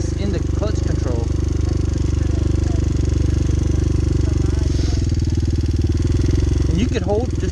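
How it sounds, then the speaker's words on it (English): A Honda Hawk 250 motorcycle idling and revving steadily while a rider practices clutch control at a riding area in Pitkin, Louisiana, a loud continuous engine drone close by, with people talking over it. "I'm not giving it too much gas, and I can give it a lot of gas and barely let the throttle, the clutch out"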